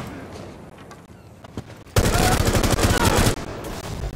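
Video game gunfire in a tactical shooter, quiet scattered shots at first, then a loud dense burst of rapid fire that carries on to the end.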